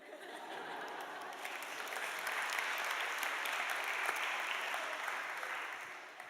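Steady audience applause fills a hall at a book festival talk, a dense wash of clapping that swells slightly mid-way with a few chuckles mixed in, continuous throughout.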